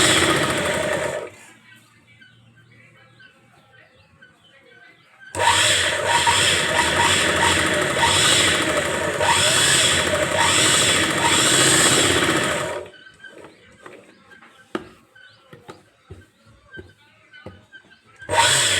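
A sewing machine runs a steady stitching burst, loud and close, sewing thread piping with a normal presser foot; quieter mechanical clicks and handling noises come before and after.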